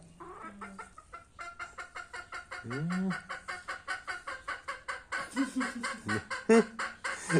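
Village hens clucking insistently before laying eggs, a dense run of rhythmic, close clucks with a few louder squawks and honking calls rising toward the end.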